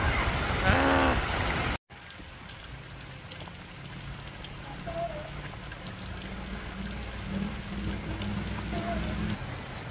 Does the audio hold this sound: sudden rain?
yes